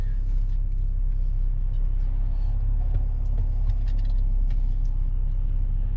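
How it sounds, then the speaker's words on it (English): Steady highway traffic rolls past near a Tractor Supply store, making a loud, continuous rumble of cars and heavier vehicles with scattered higher whooshes and hisses throughout and no talking. "My goodness, the traffic is rolling today."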